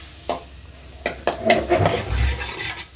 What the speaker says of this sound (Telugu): ఒక టేబుల్ స్పూన్ బటర్ వేసుకో.